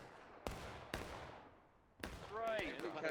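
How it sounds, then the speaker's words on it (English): Cannon fire booms in the War of Rights video game, with three sharp, loud blasts spaced about half a second to a second apart, each trailing into a rumbling decay, followed by distorted voice chatter. "Cannon fire. behind us."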